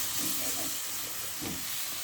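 Tomatoes and spice powder sautéing in a pan for crab curry, a steady soft sizzle and hiss with faint stirring scrapes.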